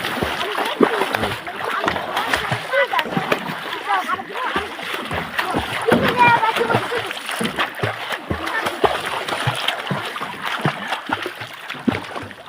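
A child splashes in water while learning to swim with plastic bottles as floats, the irregular sloshing and splatter continuing throughout amid voices talking nearby.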